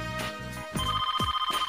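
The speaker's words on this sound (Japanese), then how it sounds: "電話。" A telephone ringing in Persona 4, a bright electronic ring sounding in repeated bursts, loud and close, with no talking over it.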